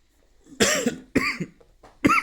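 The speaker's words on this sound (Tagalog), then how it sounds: "Inuubo na po." Three sharp, loud coughs close by, each a short harsh burst, separated by brief pauses.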